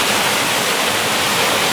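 Fast-flowing river water rushes through the entrance of the Styx canyon in the Verdon Gorge at low summer flow, a loud, dense, continuous roar heard up close.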